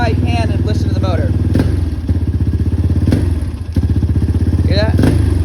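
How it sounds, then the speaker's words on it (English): A dirt bike engine with a throttle-response fault idling and revving sluggishly, a steady close chugging beat that rises only slightly with each throttle blip, with a few faint clanks and some voice in the background. "So watch my hand and listen to the motor."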